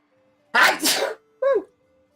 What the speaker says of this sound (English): I think I want to sneeze